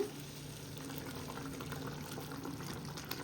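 Boiled water poured from a glass into frying mutton keema in a pan, a steady close liquid pour with bubbling under it and no talk.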